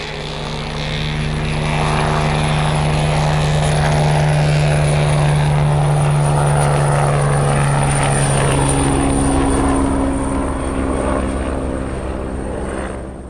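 Helicopters pursue in a snowy film chase scene, their loud, throbbing rotor drone holding steady throughout with a deep engine hum and no voices.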